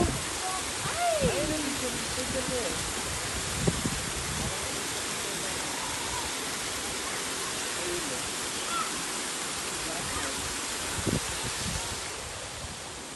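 A mountain river on the Mt. Lantik hiking trail rushes in a steady, broad wash of flowing water, close and continuous, with a few faint voices and small knocks breaking through now and then.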